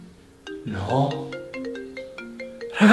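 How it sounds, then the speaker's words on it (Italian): A mobile phone ringtone plays a bright electronic melody of repeating tones from an attic, somewhat muffled and distant, while voices speak over it. "ma la suoneria viene dalla soffitta!"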